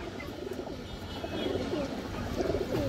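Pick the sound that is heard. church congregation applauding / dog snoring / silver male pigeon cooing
silver male pigeon cooing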